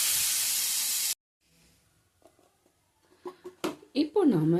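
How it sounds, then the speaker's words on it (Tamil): Garam masala frying lightly in a pan for potato capsicum gravy gives a steady loud sizzling hiss that cuts off abruptly, followed by quiet clinks and a nearby voice. "இது லைட்டாக ஃப்ரை பண்ணிக்கோங்க."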